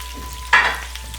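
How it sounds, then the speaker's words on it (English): Chopped onion dropped into about four tablespoons of hot oil in a pan for chicken bhuna masala, giving a sudden close sizzle that quickly settles into a softer fry. "So I have to fry it,"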